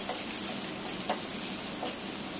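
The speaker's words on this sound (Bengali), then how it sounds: "তেল দিয়ে সেখানে পেঁয়াজ এবং আগে থেকে কেটে রাখা মরিচগুলো আমরা দিয়ে দিচ্ছি।" Onions and chillies sizzling lightly in oil in a wok as they are stirred, a soft steady hiss with a few faint scrapes, fairly quiet and without talk.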